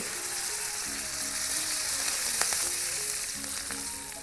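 Hot oil sizzles steadily as curry leaves and spices fry for tempering, with occasional sharp pops and light clinks of a utensil.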